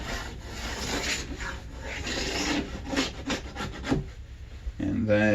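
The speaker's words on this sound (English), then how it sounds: "I'm going to get the wax off the sides, at least" Plastic scraper rasping wax off the sidewalls of Madshus rental skate skis, a run of close, rough scraping strokes with short pauses, rhythmic and steady throughout.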